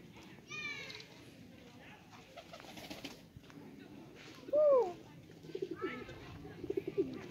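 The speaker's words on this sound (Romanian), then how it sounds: "Uite, uite ce faci porumbei ăștia." Soft pigeon coos rise and fall in short bursts at a farm zoo in Hunedoara, Romania, while a person talks nearby, with faint chirps in the background.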